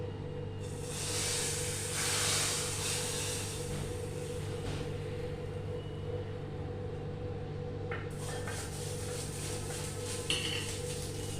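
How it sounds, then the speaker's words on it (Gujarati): Hot red-chilli tempering poured over kadhi (sweet-sour Gujarati yogurt curry) with the gas switched off: a broad hissing sizzle swells near the start, runs steadily, then flares again with faint metal-utensil clinks over a constant low kitchen hum. "અને આના પર આને વઘાર કરી દઈએ."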